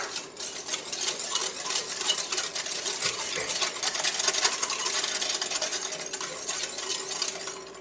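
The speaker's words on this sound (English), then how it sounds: "I'll get my egg into a large bowl, grab a whisk, start whisking that up, add in all of my granulated sugar," Egg and granulated sugar are whisked in a large bowl, a quick steady rattle of metal against the bowl with light clinks that keep going at an even pace throughout.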